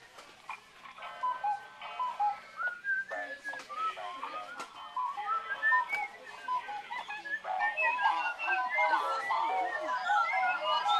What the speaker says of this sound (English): I'm going to try it again with a whistle.